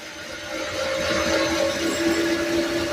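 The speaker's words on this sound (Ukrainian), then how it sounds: "з тої сторони коронка бурить" A diamond core bit grinds through a wall, a steady whining drone that swells slightly and holds continuously, loud and close, with no talk.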